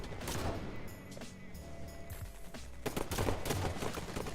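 Pistol shots fired in a competitive shooter video game, a quick run of sharp cracks mixed into busy game sound effects, with louder bursts near the end.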